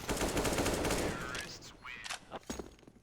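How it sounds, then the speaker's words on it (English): Rapid AK-47 gunfire from the video game CS:GO, loud bursts of shots densest in the first second and tapering into scattered cracks, with game sounds and a voice mixed underneath. "God, Doggo, stop headshotting people while jumping with the AK-47"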